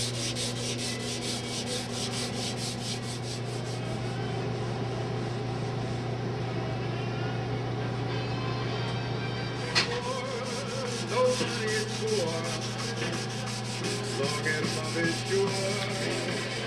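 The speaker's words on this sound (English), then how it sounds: "sanding, getting ready for the last coat here of varnish" Continuous close sanding on the varnished wood of a 1939 Chris Craft 15 1/2 foot runabout boat, a gritty rubbing hiss with a steady low motor hum throughout and no voices.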